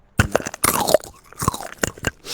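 Crunchy M&M's candy chewed up close, a run of sharp crackling bites and crunches in quick irregular succession with brief pauses between.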